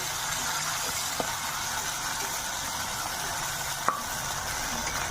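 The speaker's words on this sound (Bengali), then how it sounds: "এবার কাঁচা রসুন আর আদা কাঁচা গন্ধ যাওয়া অবধি কষিয়ে নেবো।" Raw garlic and ginger paste, with a little water added, sautés in a pan for a potato do pyaza, giving a steady soft sizzle with a couple of faint utensil clicks and no voices.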